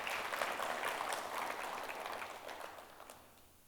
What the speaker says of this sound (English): So big round of applause to him.